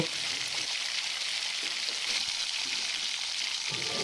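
Shim chop, bean chops with a steamed filling, frying in hot oil and flipped with a spatula, giving a steady crackling sizzle throughout with faint background movement.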